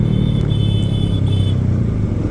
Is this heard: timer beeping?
no